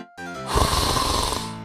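Loud, close snoring from a vampire character in the video game No Rest for the Wicked, a single drawn-out rasping breath that swells and holds over a low musical drone.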